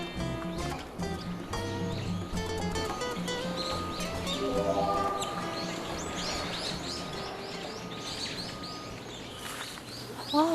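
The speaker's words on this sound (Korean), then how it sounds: "아, 새소리 너무 좋다." Clear birdsong chirps and trills along a small natural footpath on Jeju Island, heard among steady outdoor ambience with a few scattered calls, moderately close.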